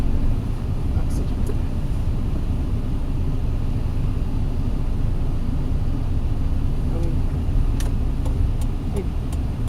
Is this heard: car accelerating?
yes